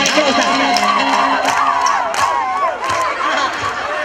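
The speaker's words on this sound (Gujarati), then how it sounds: "એટલા માટે તાળી પાડો મારા વાલા" An audience at a Ram Katha religious discourse in Machhiwad claps and cheers together, a dense crowd roar with whoops rising over the steady clapping, while voices call out.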